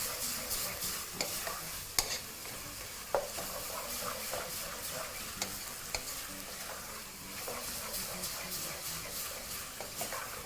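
Minced meat fries in a pan while being stirred continuously, a dense crackling sizzle with frequent scraping and clinking from the spoon, steady and close throughout.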